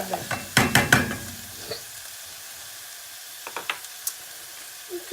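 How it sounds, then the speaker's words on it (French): Onion cooking in sunflower oil in a pan, with a few stirring clatters and scrapes near the start, then a quiet low sizzle and occasional soft ticks and pops. "nous avons un oignon qui commence à bien cuire"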